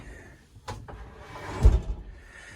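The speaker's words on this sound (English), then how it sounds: "It's simply a big drawer right here, opens up, and that's fantastic." A large freezer drawer aboard a 2011 Seawind 1250 catamaran slides open with a couple of light knocks and a louder scraping thud, close by.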